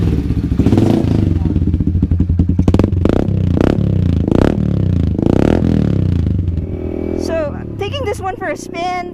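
A custom-built cafe-style motorcycle engine runs in a garage, its loud exhaust revving in bursts with clattering thumps, then settling before people talk briefly near the end.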